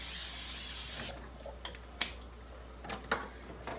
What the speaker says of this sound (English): You're going to spray the griddle.